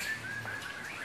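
Songbirds at a bird breeding farm with many aviary pens, holding species such as magpie robins, straw-headed bulbuls and Bali starlings, give brief high chirps and whistles over a steady, close hum of background noise.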